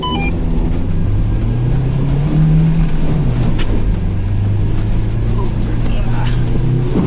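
Red updated UAZ Patriot SUV accelerating hard off-road from a standing start, a loud steady engine drone and rumble filling the whole stretch, with shifting pitch as it pulls away and passengers' voices faintly underneath.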